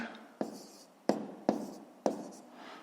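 Pen strokes on paper while numbers are written out for column multiplication of 42.5 by 6.24: four sharp, evenly spaced taps, each followed by a short scratchy scrawl, close and fairly quiet, with no voice.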